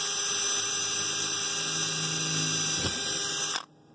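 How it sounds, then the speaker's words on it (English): A power drill with a metal bit pre-drills holes in a metal camper roof, whining steadily at a high pitch under load for several seconds before cutting off abruptly. "So what I'm about to do is pre-drill some of these holes right here with a metal drill bit."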